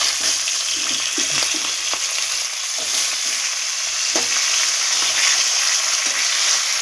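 Pomfret fish frying in hot oil in a pan, giving a steady close crackling sizzle with scattered soft pops and spits throughout, no voices.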